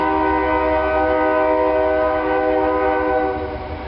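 A loud, sustained train horn blares steadily for several seconds, fading slightly at the end over rumbling low background noise.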